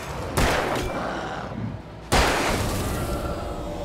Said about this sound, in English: I thought it'd be a bit of a wider blast on that shotgun